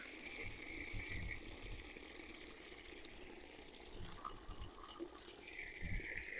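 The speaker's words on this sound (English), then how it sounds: "So I'm going to harvest a full lettuce, so I'm just going to fill this bucket up." Water gushes steadily into a garden bucket from a tap, a faint continuous rushing with soft low splashes, no voices.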